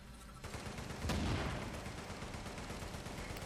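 A grenade blast and rattling gunfire from a shooter video game, a sudden loud burst about a second in followed by a dense, sustained wash of firing and rumble.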